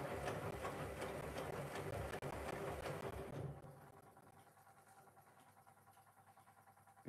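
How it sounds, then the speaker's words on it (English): A new washing machine runs steadily with a mechanical whir and rapid repetitive ticking, loud at first and then dropping to a quieter, lighter hum partway through. "You can hear it tick, tick, tick,"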